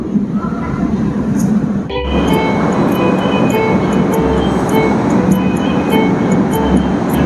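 A Kolkata Orange Line metro train idles at Kavi Subhash station before leaving for Ruby, with a loud, steady rumbling hum and a rising whir partway through; a voice speaks over it.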